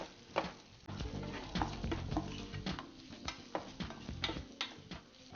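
Salt and sugar are stirred into oats upma with fried green chillies and onions in a pan, giving quiet, irregular taps and scrapes of a spoon against the metal under a faint sizzle.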